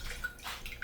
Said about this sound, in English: I'm gonna put a little tiny bit of water in here so I can get the little bits out.